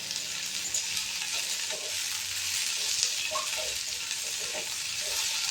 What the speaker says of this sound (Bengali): মোটামুটি পেঁয়াজটা আমার ভাজা হয়ে এসছে।